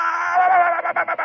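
A loud, close bird squawk from the VR game Face Your Fears: Foul Play: a sustained raspy call that breaks into short choppy bursts at the end.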